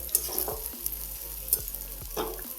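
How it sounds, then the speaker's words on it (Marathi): Matki (moth beans) being stir-fried with salt and crushed peanut powder: a steady close sizzle broken by several scraping stirs of a spatula in the pan. "आता ही मीठ टाकणार आहे आणि ही कूट पण टाकणार आहे आता हे सगळं मिक्स करून घ्यायचं"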